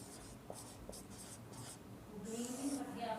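Marker or chalk strokes scratching across a classroom board during a maths lesson, a few short rhythmic writing bursts at close range, with faint room noise and no talk.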